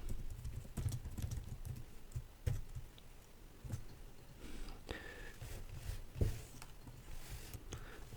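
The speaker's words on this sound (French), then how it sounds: "qui produit ces bruits de pas" Footsteps tap and thud in an uneven series of sharp impacts, moderately close, over a low rumbling background with no voices.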